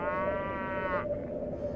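A cow moos in a video game: one drawn-out, tonal low bellow lasting about a second over a faint background hum.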